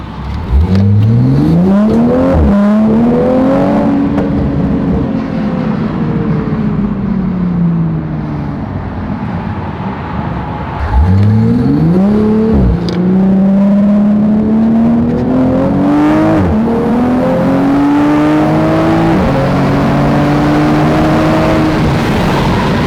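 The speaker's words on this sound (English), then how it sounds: "I just want to show you what this thing sounds like one more time" A widebody MKV Toyota Supra makes a highway pull, its engine revving hard through several gears, each climb in pitch cut by a brief dip at the shift, loud and close with steady road roar beneath.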